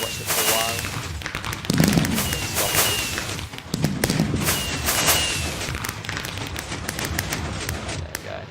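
Fireworks display in a video game, with a continuous loud barrage of crackling bursts and thumping pops, dense and random. A voice talks faintly underneath.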